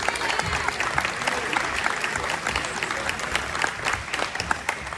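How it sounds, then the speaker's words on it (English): Audience applause at a school music recital, a dense steady wash of many hands clapping throughout, moderately loud and filling the room, with no talk over it. "let's give another round of applause for everyone who performed tonight"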